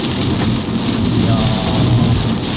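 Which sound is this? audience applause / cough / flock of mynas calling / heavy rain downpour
heavy rain downpour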